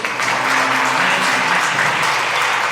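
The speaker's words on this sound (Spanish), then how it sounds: "un fuerte aplauso para su esposo" Sustained applause from a church congregation during a Sunday service, steady, dense clapping filling the room throughout, with a faint tonal hum underneath.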